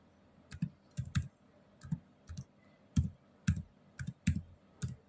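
Typing out a short email body on a computer keyboard: bursts of crisp key clicks in quick clusters with short pauses between them, close and clear, with no talking.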